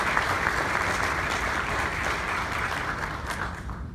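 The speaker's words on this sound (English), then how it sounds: "Get a round of applause for everybody in the room." A room full of people at a corporate event gives a steady round of applause that stays even and sustained throughout, with no talking over it.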